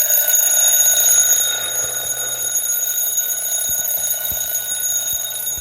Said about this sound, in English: while setting it, I think I'm gonna trip the alarm